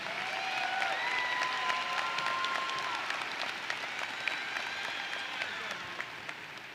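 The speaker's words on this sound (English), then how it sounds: "please, one more round of applause for all these bright young men and women willing to defend our country" At a high school commencement ceremony, a large audience gives a sustained round of applause that holds steady and then gradually thins, heard from a moderate distance with a few individual claps standing out.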